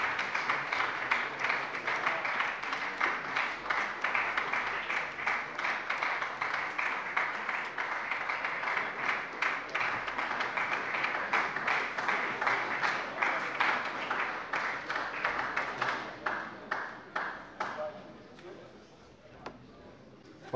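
Sustained applause from a parliament plenary session fills the room, dense and steady for most of its length before thinning and fading toward the end.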